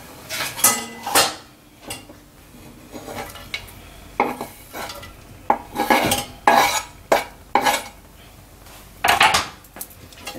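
Onions added to butter in a saucepan and stirred with a spoon: a series of loud, irregular clattering scrapes and knocks against the pan, some in quick pairs, with a faint sizzle underneath and no talking.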